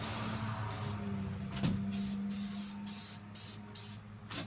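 Matte black spray paint hisses from a can onto a klunker bike frame: about eight close, steady bursts with short gaps between them over a low background hum.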